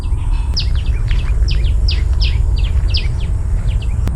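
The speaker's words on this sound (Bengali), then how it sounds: "এইখানে ভেতর থেকে কত পাখির আওয়াজ আসছে, কত সুন্দর" Several birds sing and chirp among the trees in repeated bright, short calls at moderate distance over a steady low outdoor rumble.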